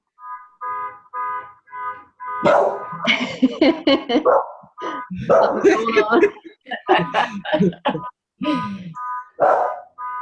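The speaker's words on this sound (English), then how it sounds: "Now my dog's gonna bark." A dog barks in a quick, evenly spaced series of yips at the start, then a person talks over occasional further dog sounds.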